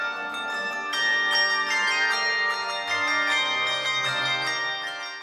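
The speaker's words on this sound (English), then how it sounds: "There's really a multitude of ways that the bell can be struck." Handbells from a handbell ensemble are struck several times, giving bright, ringing, overlapping tones that sustain and decay, clear and close with no talking.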